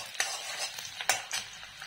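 Garlic frying in oil over a full flame, a faint, brief sizzle punctuated by a few light stirring scrapes.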